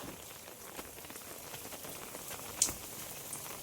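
Steady rain falls and patters on nearby surfaces, a soft even hiss with scattered drops and one sharper tap, no voices heard.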